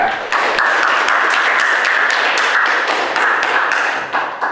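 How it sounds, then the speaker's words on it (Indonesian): A classroom group applauds a presenting team, dense, loud, continuous clapping from many hands that fills the room and tapers slightly at the end. "Oke, beri aplaus untuk kelompok 2."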